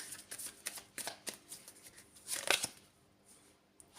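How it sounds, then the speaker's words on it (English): Witch's Tarot cards being shuffled by hand, a run of soft papery riffles and flicks in close succession, quiet and near, with a denser burst of snapping near the middle and no talking. "So we'll use the Witch's Tarot here. We'll get out a couple of cards on that."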